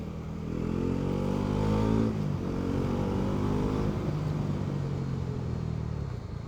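A Bajaj Pulsar NS400 motorcycle rides along with a steady, loud engine drone and a brief pitch dip partway through, wind and road noise mixed in throughout.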